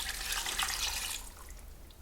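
Water pours steadily from a tap or jug over chicken bones in a broth pot for about a second, a bright rushing splash that then cuts off, leaving a quieter settling trickle.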